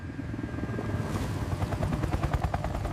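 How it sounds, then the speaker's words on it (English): A helicopter thumps overhead with a fast, steady rotor chop that stays loud and close throughout, its pulsing beat building slightly stronger toward the end, with no voices. "isn't the helicopter just gonna keep chasing after him?"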